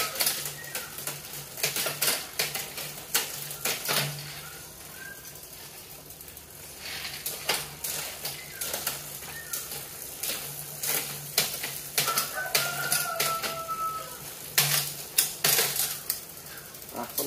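Clicks and light metallic ticks from the drivetrain of a Merida Explorer 600 touring bicycle with a 10-speed cassette and multi-chainring crankset, shifting gears in a quiet indoor setting, scattered sharp taps with pauses between.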